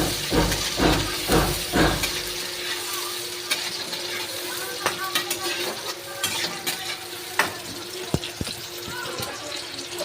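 Tomato going into browned onions in a frying pan for chicken kanti, setting off a loud sizzle with a few heavy stirring scrapes at first, then steady frying hiss and intermittent clinks of the spoon.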